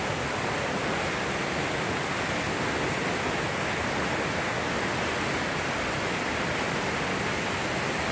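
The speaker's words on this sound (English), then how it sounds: "amazing waterfalls" A waterfall at El Fin del Mundo outside Mocoa, Colombia roars as a dense, unbroken hiss of falling water, loud and even throughout with no voices.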